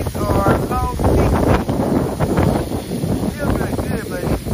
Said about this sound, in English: It's really windy out today